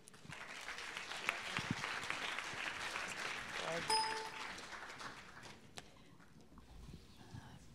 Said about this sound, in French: Je vous demande d'applaudir Florence Résillot et Fanny Oliveira.